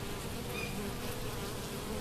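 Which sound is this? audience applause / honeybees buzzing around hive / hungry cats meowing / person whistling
honeybees buzzing around hive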